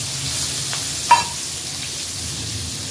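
Chopped onion and tomato land in hot spiced oil, giving a faint, steady sizzle with one brief sharp clatter partway through.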